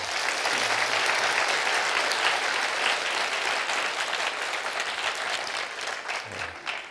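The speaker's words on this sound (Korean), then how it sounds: "박수 부탁합니다." Steady applause from a church university-group audience, a dense, even clapping that fills the room and fades slightly toward the end, with no voices over it.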